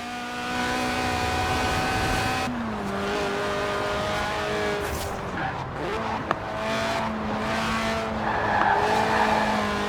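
A high-revving racing car engine screams steadily in Forza Horizon 4, a sub-700 kg car with a 190 hp 1.8-litre engine revving to 8,000 RPM, shifting pitch with gear changes, with tire squeal and skidding mixed in.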